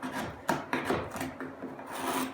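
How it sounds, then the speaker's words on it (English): A sharp-edged paint scraper rasps over a wooden baby trunk that was once canvas covered, prying off its old covering in short scraping strokes with a few sharper knocks, close and fairly quiet. "then you can come up in there with a good sharp-edged paint scraper"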